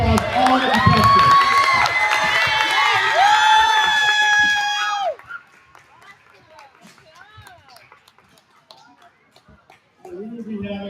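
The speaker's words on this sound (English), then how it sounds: "Let's give them one more round of applause, all the contestants." A crowd at a geography quiz competition cheers and shouts loudly for about five seconds, with excited high voices over scattered clapping, then it drops to quiet murmurs before noise resumes.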